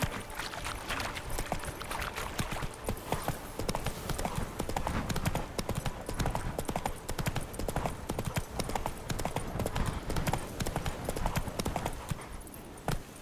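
Horse hooves clip-clop steadily in The Witcher 3, a fast, even trotting patter on a hard surface that runs loud and continuous for the whole stretch before easing slightly at the end.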